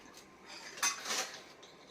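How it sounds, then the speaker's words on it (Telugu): Faint clatter of dishes, pots and utensils being washed in a Telugu household, a few soft clinks and knocks with a brighter clank near the middle, no talk. "చాలా వరకు అయిపోయినాయి అనమాట అంట్లన్నీ కడగటం"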